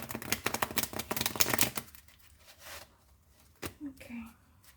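A deck of tarot cards is shuffled by hand in rapid riffling bursts for about two seconds, close and crisp, followed by quieter handling and a few soft taps.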